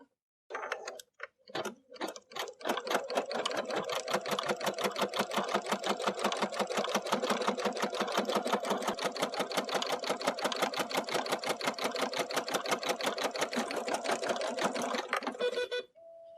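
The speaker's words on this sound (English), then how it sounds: "So we want to go ahead and do the basting." An embroidery sewing machine bastes a quilt block, and a few starting stitches give way to a fast, steady, even mechanical rattle that runs for about fourteen seconds before stopping abruptly.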